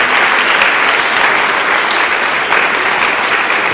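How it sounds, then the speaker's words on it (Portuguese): A church congregation gives a dense, loud, steady round of applause to the Lord, with no voices over it. "Dê uma salva de palmas ao Senhor."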